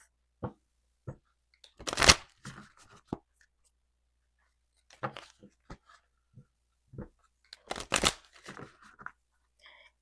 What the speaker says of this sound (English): These are horrible shuffles.